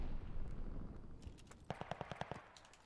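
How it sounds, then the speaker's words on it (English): A revolving shotgun fires in Call of Duty Vanguard, a quick burst of about seven sharp, punchy shots in close succession, rising out of a softer, noisy battlefield rumble. "Let's use the shotgun."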